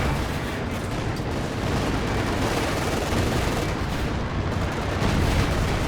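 Tank shells striking a KV-1 tank in the strategy game Company of Heroes 2, a dense, continuous roar of battle with booming impacts and gunfire blended into a loud wash of noise.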